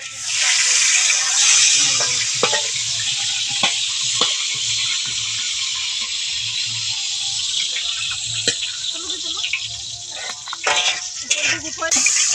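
Nuts, raisins, carrots and capsicum fry for fried rice at a village picnic, giving a loud continuous sizzle with scattered clinks of stirring and voices faint in the background.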